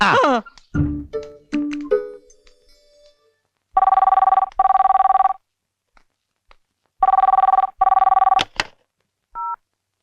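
A telephone rings in two bursts of long trilling rings separated by a pause, preceded by a brief electronic melody and some button beeps.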